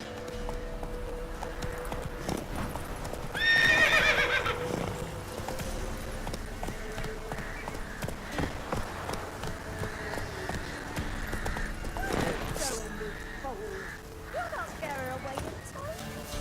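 Hooves of the horse Roach clip-clop at a gallop in The Witcher 3, a steady rhythmic patter under game music and voices, with a louder burst around the middle.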